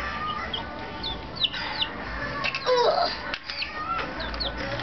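Several high chirping peeps from a chick, scattered and fairly clear over a background of clucking fowl and faint outdoor noise.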